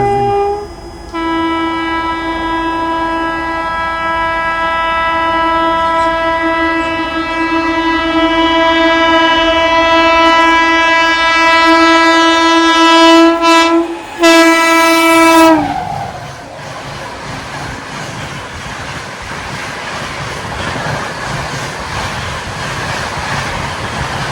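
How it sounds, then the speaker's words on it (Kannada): A train horn blares in a long sustained chord, then a goods train on a dedicated freight corridor rumbles past loudly with a rolling, rattling clatter. "ಡೆಡಿಕೇಟೆಡ್ ಫ್ರೇಟ್ ಕಾರಿಡೋರ್ ಒಳಗೆ ಒಂದು ಗೂಡ್ಸ್ ಹೊಂಟದ್ದು"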